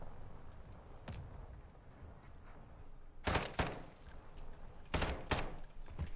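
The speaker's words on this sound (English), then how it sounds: "try to fire the suppressed weapon after" Suppressed weapon fire in Call of Duty DMZ gameplay: a few sharp muffled bursts of shots in the second half, over a quiet low background rumble.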